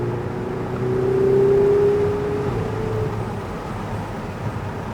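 A Lamborghini Huracan engine on a track, a loud, close, sustained drone that swells as it accelerates and then eases off over several seconds, with no voices.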